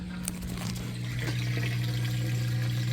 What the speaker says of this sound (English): It's draining that water out right now.